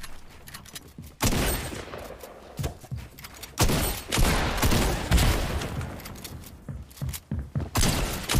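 Rapid video game gunfire from a battle on an old OG map, with bursts of shots and a double pump shotgun blasting in close, loud volleys separated by brief pauses.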